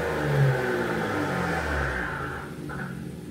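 Engine of an Infiniti G35 with new downpipes and turbos, a close, loud rumbling rev that holds and then eases off, with a brief whirring rise near the end.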